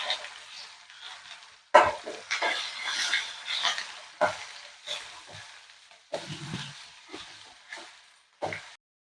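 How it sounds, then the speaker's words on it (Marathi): Ground masala sautéing in oil for a village-style chicken fry: bursts of sizzling spatter broken by repeated stirring scrapes and pan knocks, close and moderately loud with short quiet gaps between strokes. "हा मसाला आपण आता चांगले तेल सुटेपर्यंत परतून घ्यायचा"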